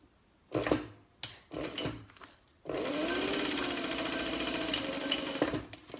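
Sewing machine basting the flap onto a mini wallet, starting with a few short bursts of stitching, then running steadily for about three seconds, close and clear with no talk.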